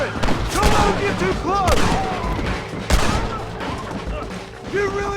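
Gunshots in a Red Dead Redemption shootout: repeated loud cracks and booms from several directions, mixed with shouting voices and dense battle noise throughout.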